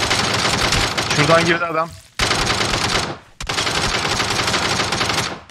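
Rapid automatic gunfire in PUBG, loud sustained bursts broken by short pauses into three volleys, with a voice talking briefly over it.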